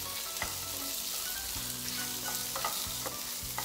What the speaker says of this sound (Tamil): சேர்த்துட்டு மிதமான சூட்டில் இந்த வெங்காயம் பொன்னிறமாகற வரைக்கும் வதக்கிடுங்க